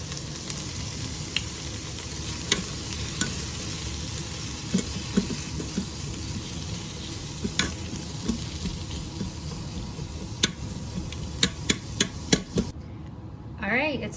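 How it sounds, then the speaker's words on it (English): Diced onion and minced garlic sauté in a pot for a beef stew, giving a steady sizzling hiss with scattered clicks of stirring throughout, fairly close, ending with a short scrape. "I'm also going to throw in a little bit of minced garlic right now and saute that up for just a minute"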